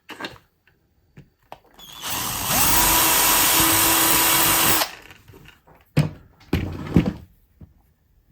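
A power drill bit enlarges a hole in a vintage rotary snow plow model, whining steadily for about two seconds amid quiet handling clicks and knocks before and after.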